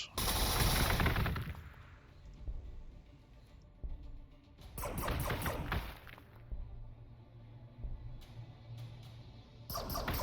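Units open fire in the Warhammer 40,000: Gladius strategy game, a loud rapid burst of gunfire at the start followed by further volleys and scattered shots against a low background hum.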